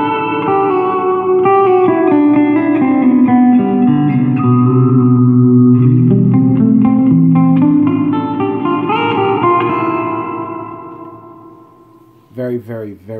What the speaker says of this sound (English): And then my favorite is the hall reverb.